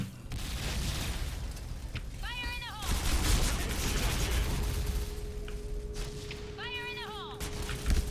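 An SC2010 XMAS 2015 rifle fires in an online shooter, with loud repeated shots and booming effects over continuous battle noise.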